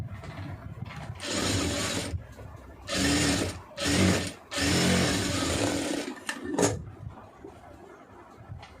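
A sewing machine stitches a blouse neck in several loud, close whirring bursts of about a second each, separated by short quiet pauses, ending in a brief final run and soft handling sounds.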